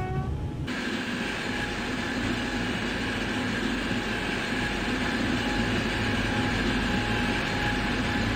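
Steady rumble and rolling noise inside the cab of an Impuls 36WEa electric train in the MaSzyna train simulator, continuous and fairly loud, with a brief tone at the very start and no talk.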